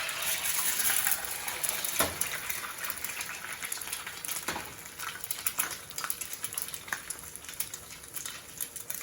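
An egg fries in a hot pan, giving a steady, dense sizzle with scattered sharp pops and crackles throughout. No one speaks.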